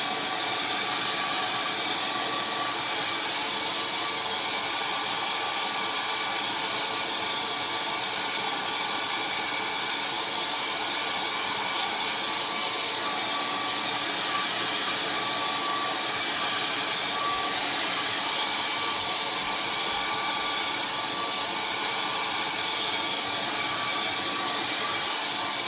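A dryer blows hot air over chalk couture ink on a T-shirt, a loud, constant whooshing roar that holds steady from start to finish with no voices over it.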